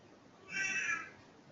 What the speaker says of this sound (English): All right, so that's my cat.